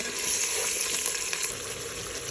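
Meat sizzling in hot oil in a pan with golden-brown fried onions, a steady loud frying hiss throughout with no talking, cooked for daal gosht.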